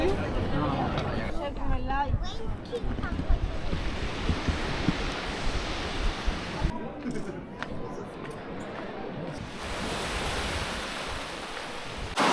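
Ocean surf rolls onto the Mediterranean coast at Nerja in Andalusia, Spain, a continuous roaring wash of waves with gusts of wind buffeting the microphone and someone talking over it.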